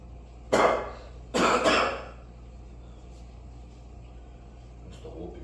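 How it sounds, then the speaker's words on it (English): Two sharp, close coughs in quick succession, the second a double burst, followed by quiet room noise and a faint low hum. "That's the whooping cough."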